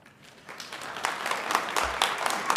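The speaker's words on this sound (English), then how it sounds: "We don't applaud during statements." Audience applause breaks out at a city council meeting, a short burst of scattered clapping that builds and holds for a couple of seconds in a large room.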